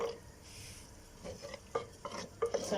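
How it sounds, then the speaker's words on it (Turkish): Garlic cloves go into an earthenware casserole and are stirred into a dried-bean stew with pastırma. Soft, quiet scraping gives way to a few sharper clinks of a utensil against the pot, with no talking. "Şimdi sarımsakları atıyorum."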